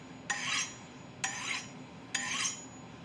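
A kitchen knife is drawn across a sharpening stone in three separate, evenly spaced rasping strokes, each a short scrape, quiet and close, with no talking.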